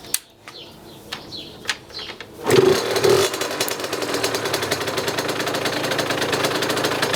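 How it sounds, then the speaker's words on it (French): A 50cc motorcycle engine is restarted after carburetor tuning, giving a few sharp knocks before catching and settling into a steady, rapid idle that runs close and even to the end. "Là je vais rallumer la moto pour que vous puissiez entendre"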